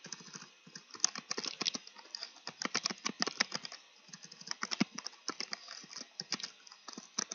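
Steady, close computer keyboard typing during coding, with quick irregular key clicks running throughout at a moderate level and no voice.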